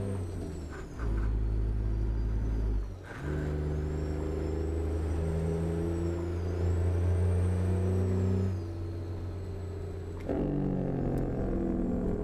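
A truck engine idles and runs at night on a convoy route: a loud, steady diesel rumble with a sharp air-brake hiss near the start, a surge around three seconds and another shift near ten seconds.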